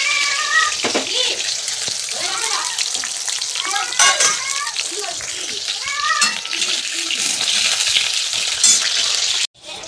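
Food fries in ghee with a loud, continuous sizzle and crackle while utensils clink and stir, and voices talk faintly in the background.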